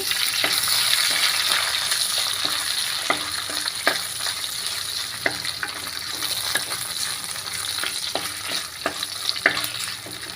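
Green chilies fry in oil in a pan for a bottle gourd dish, a continuous close sizzle with scattered clicks of a spoon stirring.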